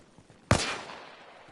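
A single sharp gunshot in the video game Arma cracks out loudly, then trails into a fading echo over about a second.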